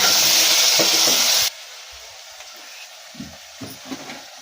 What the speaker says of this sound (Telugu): టమాటా వక్కలు వేసుకుంటున్నా.